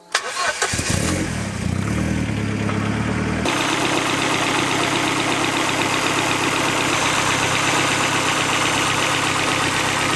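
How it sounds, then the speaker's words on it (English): A Ford Escort RS Cosworth engine turns over and catches, then settles into a steady, loud running hum with a smooth, even tone. "the engine still runs smoothly, as you would expect"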